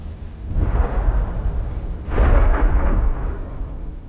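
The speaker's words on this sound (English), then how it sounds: "They contain ammunition that explodes one by one." Two heavy, booming blasts a couple of seconds apart, each followed by rumbling and crackling debris, heard from some distance, as ammunition in burning trucks of a military convoy explodes.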